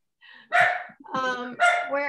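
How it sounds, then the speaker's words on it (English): A large German Shepherd gives several deep, resonant barks in quick bursts, close and fairly loud, with a short pause between the groups. "He's a ginormous German Shepherd, and best alarm possible."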